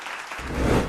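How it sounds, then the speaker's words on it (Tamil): An audience at a Tamil children's speaking event bursts into applause, clapping swelling from quiet to a full, dense patter within a second. "ஒரு உற்சாகமான கைத்தட்டல், பாராட்டுக்கள்."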